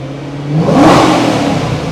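A Ford GT engine revs under a quick blip of throttle, climbing loudly to a peak and then easing back to a steady, elevated idle, close and alone with no talking.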